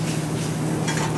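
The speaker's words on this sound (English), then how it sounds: "So this is just gonna be sauteed with some mushrooms here." Mushrooms sauté in a pan for a marsala sauce, a close, steady sizzle with a faint low hum and a brief stir, with no one speaking.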